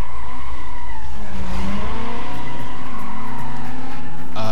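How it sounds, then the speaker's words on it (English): A stock Fiat Punto in the racing game Need for Speed: Most Wanted, its engine droning loudly as the tires squeal in a long, sweeping skid, with the engine note rising and falling through the slide and no voices. "I'm running a completely stock Fiat Punto, nothing on the engine."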